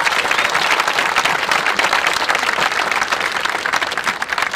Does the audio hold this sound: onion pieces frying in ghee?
no